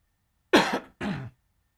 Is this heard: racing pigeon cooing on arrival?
no